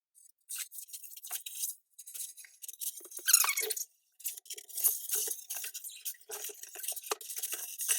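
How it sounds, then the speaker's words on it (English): A kitchen knife cutting through floral arrangement material in bursts, with crisp crunching and scraping strokes separated by short pauses, close and fairly quiet. "I'm going to use one of my kitchen knives and cut this in half."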